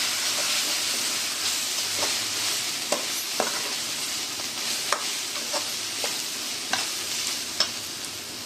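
Spices including garam masala, turmeric and chili-coriander powder are stirred into a frying ridge gourd and egg gravy: a loud, continuous sizzle broken by regular scraping clicks of the spoon against the pan.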